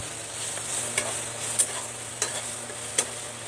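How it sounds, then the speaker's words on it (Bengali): Fish coated in turmeric frying in a pan, a steady soft sizzle with a few sharp pops and spatters scattered through, fairly close and alone without any talking. "মাছগুলো এখন ভেজে নেবো।"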